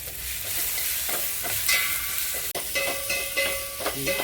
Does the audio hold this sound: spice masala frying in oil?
yes